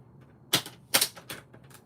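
A paper trimmer slices through cardstock while a fold card is being made, giving a few sharp, clicky scraping bursts close by with short pauses between them.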